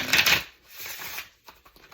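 Tarot cards are shuffled in a quick riffle, a burst of crisp flapping followed by a few softer taps and slides.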